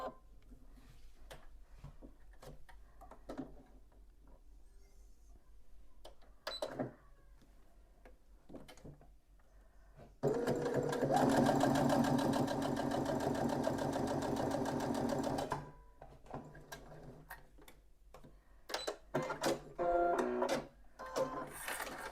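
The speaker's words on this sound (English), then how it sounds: "we're going to go and sew along the bottom of each one" A sewing machine runs one steady five-second burst of stitching along the bottom of a fabric pouch. Quieter rustling and handling of fabric come before and after.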